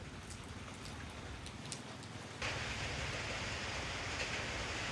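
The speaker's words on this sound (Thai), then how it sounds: "ฝนมันกระสาดมา" Heavy rain pours down in a rural Thai orchard among longan and lychee trees, a steady broadband hiss that suddenly swells louder midway and keeps splashing densely without any talk.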